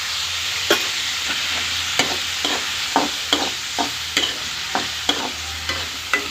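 Onions with turmeric sauté in a pan under a steady soft sizzle, punctuated by about a dozen crisp spoon scrapes and taps at a regular stirring rhythm, close and clear with no talking.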